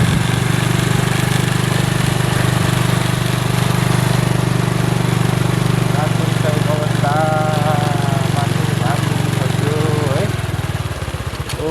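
A motorcycle engine labours uphill in third gear on a hill road with a steady, loud, low drone for about ten seconds, then drops away abruptly near the end.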